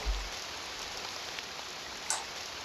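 Steady rain falling in a video game, a constant soft hiss with a faint drop or tap near the end.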